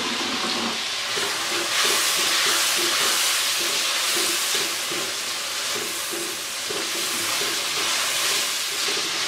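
Bitter gourd (karela) sizzles and fries in spiced masala in a pan, a steady continuous hiss and crackle with no pauses, close and moderately loud, with no voices.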